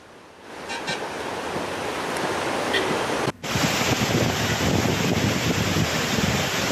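Surplus water released through the dam's four sluice gates rushes into the Bhavani river in a loud, continuous roar. There is one brief cut partway through before the heavy torrent resumes.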